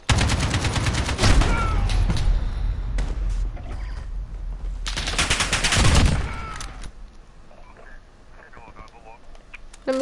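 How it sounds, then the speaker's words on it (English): Call of Duty Modern Warfare beta gunfire: two loud, dense bursts of rapid automatic shots crackle near and sharp, with scattered single shots and thuds between them and quieter spells toward the end. "I don't like the sound of that gun."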